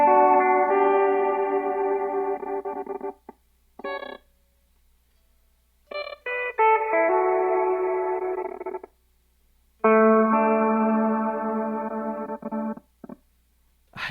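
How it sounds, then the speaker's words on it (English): Electric guitar played through a filter gate and reverb pedal on a studio pedalboard: sustained distorted chords chopped off abruptly by the gate, with short stabs and silent gaps between bursts, loud and up front. "I'm going to put on a reverb and engage the gate."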